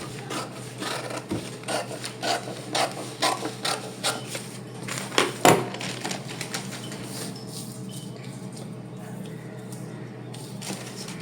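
Scissors cutting along a paper pattern for a 39-inch katori blouse, making a run of rhythmic crisp snips and rubbing rasps close by, fading to quieter rustling; no talk.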